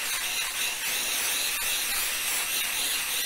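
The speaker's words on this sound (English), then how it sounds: "So I'm going to lightly spray them, trying not to overspray because this stuff is sticky." An aerosol can sprays sticky adhesive lightly onto fabric pieces, a close, continuous airy hiss with slight wavering pressure and a few faint clicks, and no talking.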